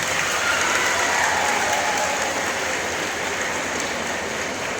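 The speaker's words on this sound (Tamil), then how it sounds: "இந்த அப்பான்னு சொன்ன பிள்ளைங்களுக்கு ஒரு பெரிய கைத்தட்டல் கொடுங்க." Audience applause at a school festival event in Tamil Nadu, a dense, steady wash of clapping that stays loud and close for the whole stretch with no voices on top.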